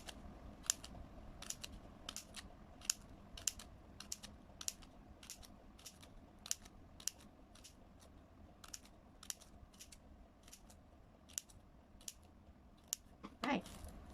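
Scissors snipping through folded angpow paper for a lantern craft, a long series of quiet, sharp clicky cuts at a steady pace, close and faint.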